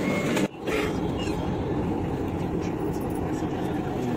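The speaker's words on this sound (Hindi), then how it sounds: "और ये हमारी मेट्रो आ गई" A Delhi Metro train pulling into a station platform, heard as a steady low rumble and whoosh of the arriving carriages, loud and close after a brief dip, continuing evenly throughout.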